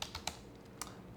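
Quiet keystrokes on a computer keyboard as a password is typed, a few separate taps with pauses between them, faint and close in a still room.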